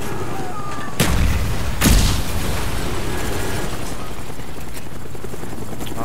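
Constant rotor-like aircraft drone of a spy plane deployed in a Call of Duty-style shooter game, with two sharp booming blasts early on over the steady hum.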